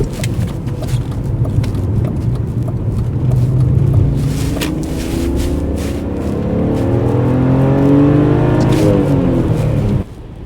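Interior of a car fitted with lowering springs driving over a bump, steady engine and road rumble with wind noise that rises slightly, loud and continuous, ending with a brief drop in level.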